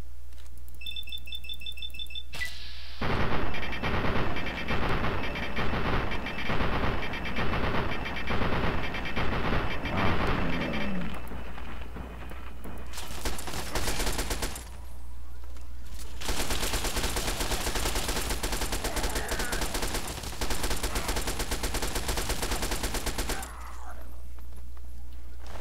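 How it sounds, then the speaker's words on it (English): Enemies in the Fallout video game open fire on the player: a long run of rapid, evenly spaced gunshots, loud and close, followed by a dense stretch of heavy, sustained firing that cuts off abruptly. "Why you guys shooting at me, huh?"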